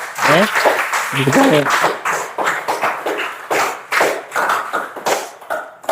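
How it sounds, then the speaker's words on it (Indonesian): A class applauding, with rapid uneven clapping in loud bursts that rise and fall over several seconds, and voices mixed in. "mari kita sama-sama memberikan aplaus untuk diri kita sendiri"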